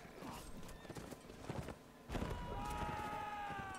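Cavalry horses galloping across a Napoleonic Wars battlefield in the video game, with rapid clip-clop hoofbeats and a horse whinny rising over a busy mix of battle noise, loud and continuous throughout.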